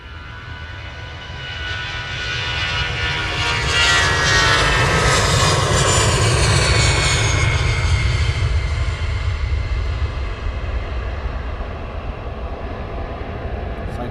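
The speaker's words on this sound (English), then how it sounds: "now hopefully we're going to get the EasyJet departing" An easyJet jet airliner departing Luton Airport, its engine roar swelling from a distant rumble to a loud pass with shifting whine, then slowly fading, no voices.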